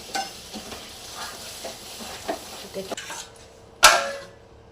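Masala frying in a pan with a splash of water, stirred with soft scraping strokes that come in irregular bursts over a steady low sizzle, ending in one sharp, loud hiss near the close.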